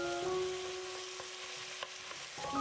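A filling stir-fried in a wok with cooking wine, light soy sauce, sugar and white pepper gives a soft, steady sizzle with faint scraping clicks and a low hum beneath.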